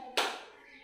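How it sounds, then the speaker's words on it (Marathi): One sharp hand clap rings out close by during a classroom syllable-clapping language game at a school, then trails off into quiet room echo. "उभा राहायचं आणि आपल्या नावा एवढ्या नावातील अक्षर एवढ्या टाळ्या वाजवायच्या आहेत"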